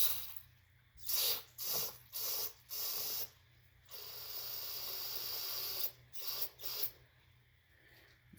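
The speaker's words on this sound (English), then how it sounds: "Now what we're going to do is spray these fuel lines." Several short hissing bursts from an aerosol can of brake cleaner sprayed onto the fuel lines of an old Homelite engine, one long continuous spray in the middle, then more quick squirts, close by.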